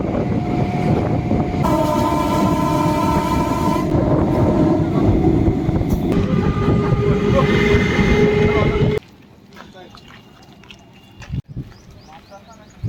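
A Lalgola train passes at Kalyani railway station with a loud, sustained rumble and tonal horn-like whine, then drops away to quieter station ambience with a few knocks; talk may mix in.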